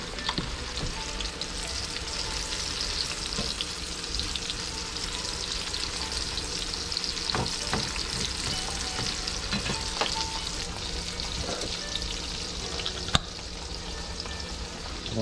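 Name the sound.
mushrooms frying and being stirred in a pan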